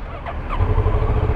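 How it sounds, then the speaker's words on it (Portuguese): A Kawasaki ER-6N 650 naked motorcycle's parallel-twin engine rumbles close by on the street, its low throb swelling slightly partway through the short burst. "Olha o som do motor, pessoal."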